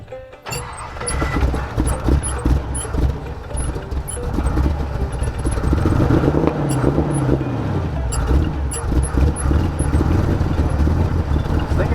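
Pickup truck towing a trailer with a car show sign down a road: a steady engine drone and rumbling tyre and road noise continue throughout, with rattles and clunks from the trailer.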